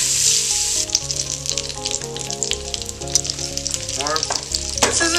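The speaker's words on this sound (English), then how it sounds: "We take butter, got our cast iron pan, love cast iron. We let that sear." Beef short ribs sear in butter in a cast iron pan, a loud, continuous sizzle and crackle close up with occasional stirring scrapes.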